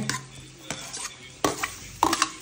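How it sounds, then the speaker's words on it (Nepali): Chopped onion added to a hot cooking pan and stirred, with a few scraping clatters of a spoon against the pan over a faint sizzle. "अब चाहिँ प्याज हाल्दिने।"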